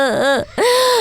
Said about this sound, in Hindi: कहीं से एक बच्ची के रोने की आवाज पूरे घर में फैल जाती है।